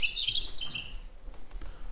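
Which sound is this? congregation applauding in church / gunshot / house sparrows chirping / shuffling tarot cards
house sparrows chirping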